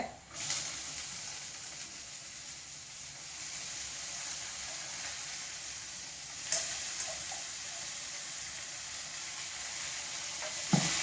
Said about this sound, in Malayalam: ഈ മണിത്തട്ട ചെറുതാക്കി നുറുക്കി വെച്ചിട്ട് കഴുകി എടുത്തതാ ഞാനിത് ഇട്ട അത് ഞാൻ അങ്ങോട്ട് ഇട്ട് കൊടുക്കുകയാണ്